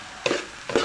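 Bihon noodles are tossed in a pan in two quick stirring strokes, each a soft scraping swish over a faint sizzle, close and without talk.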